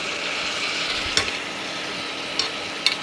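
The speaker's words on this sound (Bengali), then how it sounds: "এবার এটাকে নাড়াবো" Spiced carrots and peas stirred in a pressure cooker, a low steady scrape and sizzle with a few sharp clinks of the spoon against the metal pot, close and alone.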